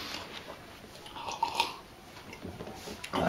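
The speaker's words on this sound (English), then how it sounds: "I'm still chewing." Close, wet chewing and crunching from a mouthful of bird's eye chillies, soft and irregular with faint breathing, and no talking over it.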